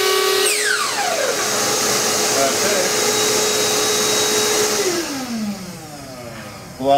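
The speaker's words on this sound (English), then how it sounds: "pull out the badge and the vacuum cleaner shuts down" A makerspace workshop vacuum motor whining steadily, then winding down as it shuts off, its pitch sliding lower until only faint noise remains.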